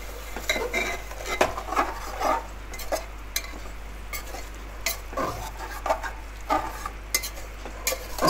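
Whisked yogurt stirred into a paneer masala in a pan, with a spoon scraping and clinking against the metal in irregular strokes over a low, steady background hiss, close and moderately quiet, with no talking.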